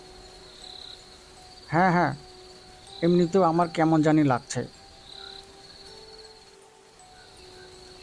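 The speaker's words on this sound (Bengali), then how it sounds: "চারিদিকে ব্যাঙের গঙ্গানি আর ঝিঝি ডাকে ভরা" Crickets chirp through a rainy night by village fields, a steady high drone running beneath short bursts of conversation.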